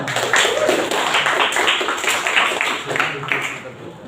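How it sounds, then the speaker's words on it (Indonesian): A class audience claps together during a school lesson discussion, a steady dense patter of many hands sustained throughout, fairly loud and close with a faint murmur of voices underneath. "Tepuk tangan, tepuk tangan."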